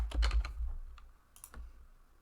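Computer mouse clicks while a column chart is being built in Power BI: a cluster of quick, close clicks at the start, then two or three sparse, fainter clicks, with no talking.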